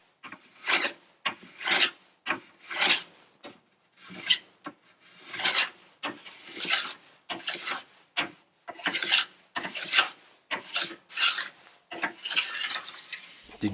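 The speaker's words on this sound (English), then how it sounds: "you can hear the difference in the sound the tool makes at the tail of the ski versus through the middle of the body of the ski" A ski tuning tool cuts the base bevel along a new ski in repeated rasping, filing strokes, each a scraping rub of metal on ski base in a steady back-and-forth rhythm, close and alone without talk.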